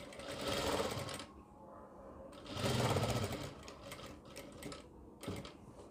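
Sewing machine stitching a ladies' scarf mask, two long bursts of rapid mechanical stitching with short pauses and a few brief stops and starts, close and clear, no speech.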